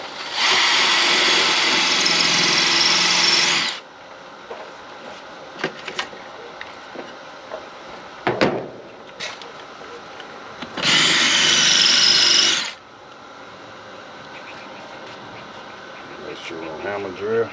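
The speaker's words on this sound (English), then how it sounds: "Hammer drill." A hammer drill bores into a surface to set anchors during a Trane unit breaker replacement service call, two loud sustained bursts of drilling a few seconds each, separated by quieter handling noise and knocks.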